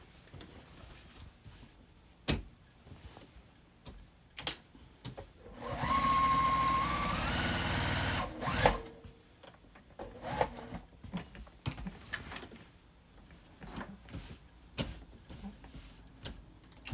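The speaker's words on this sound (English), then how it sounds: "I'm just simply quilting it with my standard foot." A sewing machine with a standard presser foot quilting a jacket made from fat quarters runs in one steady burst of about three seconds, set among quiet clicks and handling noises with no voices.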